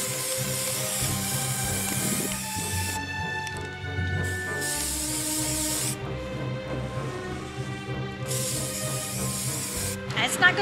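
Sparkle spray paint hisses from an aerosol can onto a pumpkin in several loud bursts, each a few seconds long with short gaps between them, over steady background music.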